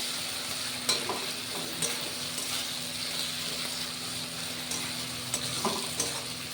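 Onion, ginger-garlic paste and mutton mince sizzle steadily in a hot pan while a spoon stirs them with occasional soft scraping knocks. The sizzle is close and continuous.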